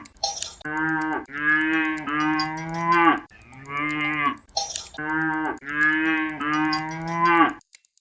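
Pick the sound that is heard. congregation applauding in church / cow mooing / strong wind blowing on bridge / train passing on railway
cow mooing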